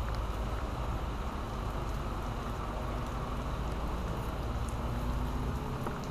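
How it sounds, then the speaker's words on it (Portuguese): Heavy rain pours steadily outdoors while a car's oil level is being checked, a dense, even hiss of drops on surfaces that holds close and constant throughout with no pauses. "O nível tá chovendo pra caramba"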